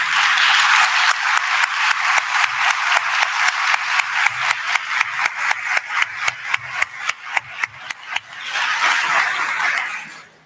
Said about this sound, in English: please help me to thank all those listed with a big round of applause